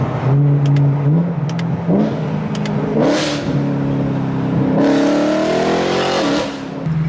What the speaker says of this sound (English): You can't go wrong with the sound of the V8